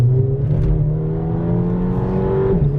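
An Audi accelerating hard from a parking lot with its wheels briefly losing traction, a loud near engine drone that rises and holds steady for a few seconds, with no talking.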